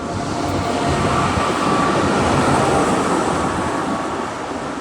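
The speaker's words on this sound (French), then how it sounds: "C'est le tram." A city tram rolls past on a street, a steady, loud rumble of wheels and motor that holds for several seconds with no voices over it.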